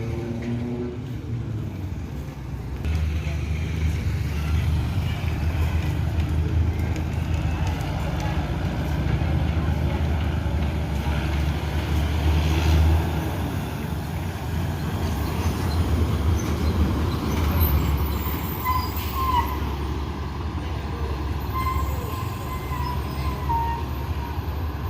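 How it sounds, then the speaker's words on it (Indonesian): A Gumarang Jaya Executive Masterpiece coach pulls into Solo bus terminal, its steady low engine rumble continuous and fairly close amid busy terminal background noise, with a brief high horn-like tone near the end. "Ini bus Gumarang Jaya yang pertama masuk Terminal Solo"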